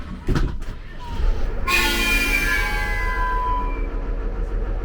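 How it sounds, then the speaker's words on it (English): A loud train whistle blasts after a brief rumble, its sustained tonal wail holding for several seconds over rolling rail noise, with faint talk nearby, heard on a historical trolley tour in Tombstone, Arizona. "That was the whistle I was looking for"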